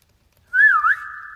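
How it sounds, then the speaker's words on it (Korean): Whistling from a song's guide vocal track, a single clear melodic phrase that swoops up and down then settles into a sustained held note, bright and close with no other sounds around it. "가이드를 보면은 휘파람 소리들이 여기 있네."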